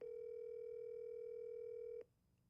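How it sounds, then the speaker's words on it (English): A steady single-pitch phone tone sounds loud and close for two seconds while a call is being placed, then cuts off abruptly, leaving faint background noise. "It's ringing."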